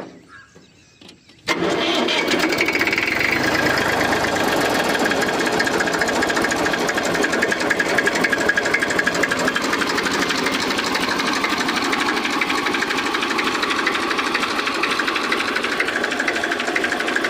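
A Massey Ferguson 1035 tractor engine cranks with a self-starter after a brief quiet moment, then catches and settles into a steady, loud, close diesel idle that runs unbroken with no talking.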